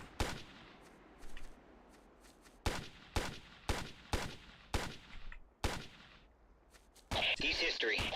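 Gunfire in the original Ghost Recon video game: several sharp, loud single shots spaced a second or so apart, with background game noise and a burst of louder effects at the end.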